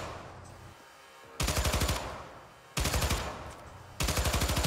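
Three loud bursts of rapid automatic gunfire from a gun in the game Syndicate, each a tight string of shots lasting about a second, separated by quieter pauses.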